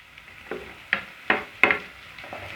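Finely chopped tomatoes go into hot ginger garlic paste for a fish kulambu and sizzle, with a soft background hiss broken by four sharp, close bursts as they are stirred.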